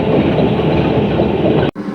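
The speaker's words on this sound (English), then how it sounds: "It sounds like it's ready to fall apart. It sounds like a damn train." A fancy city bus rattles loudly and steadily like a train car, with a continuous clattering rumble that drops out briefly near the end before resuming.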